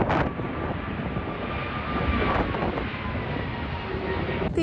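A military jet roars past at the San Francisco Fleet Week air show, a loud, steady engine roar held for several seconds over broad outdoor noise.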